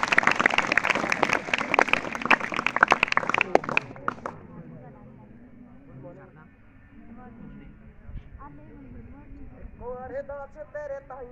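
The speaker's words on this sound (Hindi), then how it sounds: "जोरदार तालियों से उनका स्वागत।" An audience at a Republic Day school program applauds to welcome a 10th-class student singer, with dense clapping for about four seconds before it fades into quieter room sound and faint voices.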